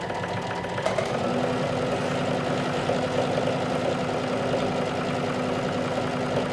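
A sewing machine stitches a hem along a folded edge, humming steadily and closely with a fast mechanical rhythm; a brief tap comes early, and no one speaks.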